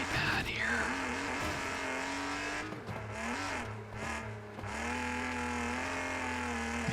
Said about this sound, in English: I'm kind of tired of engine noises.